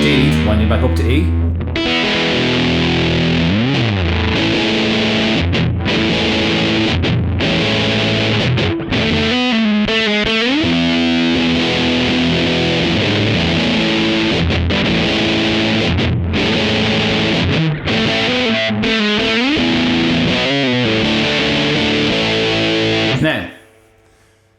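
A Mosky Mini Muff fuzz pedal drives an electric guitar tuned back to standard E in a thick, sustained distorted riff with chugging palm-muted chords and ringing notes, loud and continuous before stopping abruptly near the end.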